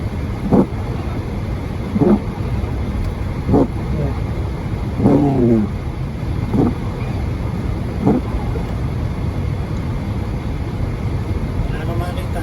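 Car driving on a slippery, snow-covered road during a snowstorm, with a continuous engine and road rumble beneath wind, while a person talks intermittently over it.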